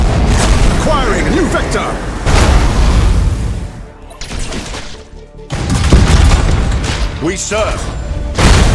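Warship main battery cannons in Battlefleet Gothic Armada 2 boom heavily and continuously, loud rumbling salvos with a brief lull midway, under commanding voices and game effects.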